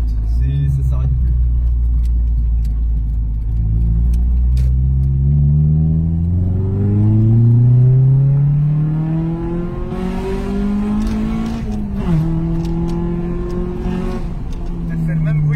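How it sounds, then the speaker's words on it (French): Honda Civic VTEC engine revving hard, climbing steadily in pitch like a rally car, with a brief dip near the end before pulling up again; loud and close, with people talking over it. "Elle fait le même bruit qu'une caisse de rallye."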